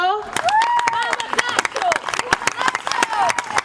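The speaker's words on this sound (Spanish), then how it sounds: "un forte aplauso a Anxo" Audience applause welcoming a young singer at a local singing contest, sharp crowded clapping throughout with a voice talking over it, close and lively.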